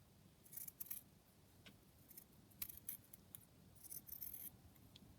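Scissors trim fabric during hand-stitched ruffle making, with several faint, close snips in small clusters and quiet stretches between.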